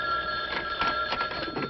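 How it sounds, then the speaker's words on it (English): An old telephone bell rings indoors in a 1979 western film, with repeated rapid metallic trills that are moderately loud and steady, and no talk. "Phone. Where's the phone?"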